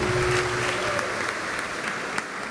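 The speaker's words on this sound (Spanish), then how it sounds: "Un aplauso a Jesucristo resucitado." A church congregation claps for the risen Jesus Christ, dense, even applause from a crowd that carries on steadily before easing slightly.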